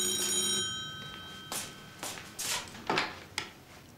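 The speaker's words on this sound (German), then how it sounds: "hörst du das Telefon?" A telephone bell rings indoors in a German crime-drama scene, with a bright tone at first and then several sharp, separate rings at uneven intervals, fairly close and with no talk over them.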